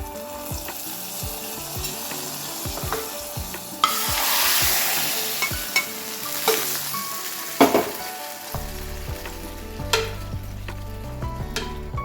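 Ghee-fried cashews and raisins are poured into a pot of vermicelli jaggery payasam. A sharp sizzling burst is followed by steady frying hiss and scattered spoon scrapes and taps, with no talking.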